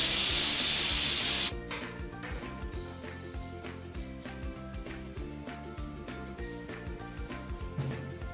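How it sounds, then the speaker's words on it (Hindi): A pressure cooker cooking mutton on a stove hisses loudly and steadily for the first second and a half, then stops abruptly, leaving quieter kitchen clatter and soft tapping. "प्रेशर कुकर चलना स्टार्ट हो गया है"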